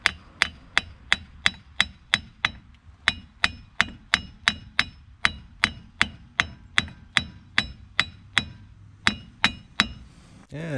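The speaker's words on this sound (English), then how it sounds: "Carefully, I was using the ball peen part of the ball peen hammer and just carefully tapping towards the center part of the outer part." A ball peen hammer taps steadily on a 2015 Ram 2500 4x4 front axle flange during an axle shaft install, giving about two dozen sharp, ringing metallic strikes at an even pace, close and loud, with no talking.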